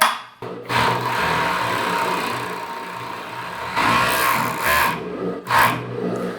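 Industrial overlock sewing machine running a test stitch, a loud continuous high-speed whirring hum that stops briefly, surges again, and ends with short bursts.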